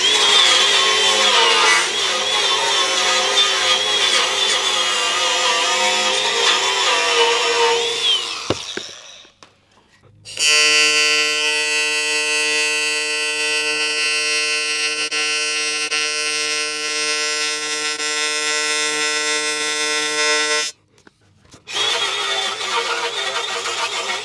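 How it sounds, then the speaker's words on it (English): TIG welding a cracked part with an ArcCaptain TIG 200 welder, a loud steady buzzing arc hum with harsh tones that cuts out briefly twice, then resumes, with no talking. "So I turned my welder up even more, so it's on 175 now."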